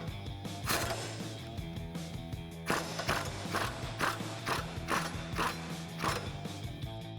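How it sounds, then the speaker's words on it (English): A ratchet with a 21mm socket loosens a bolt under a 2015-2024 Mustang GT during a suspension install, giving repeated quick clicking bursts in an uneven rhythm, close and clear, with no talking. "we're going to switch to a 21mm socket. We're just going to loosen this for now."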